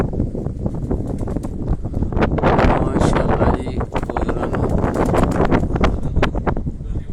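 Strong wind buffets the microphone on a rooftop among flying pigeons, a loud continuous roar with rustling gusts, and someone speaks briefly over it.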